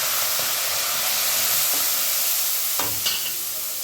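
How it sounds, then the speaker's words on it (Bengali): Cumin and chili powder tipped into a hot pan of oil and a little water for Bengali tel koi, a constant loud sizzle and hiss with a couple of brief stirring scrapes. "এবার আমি এতে দিয়ে দেবো আমার জিরে এবং লঙ্কার গুঁড়ো।"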